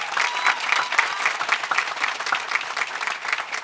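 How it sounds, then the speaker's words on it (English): At a bill signing ceremony, an audience breaks into loud, sustained applause, crisp clapping holding steady with no talk over it. "Let's give a huge round of applause to Senator Andrew Gardis and Senator Millie"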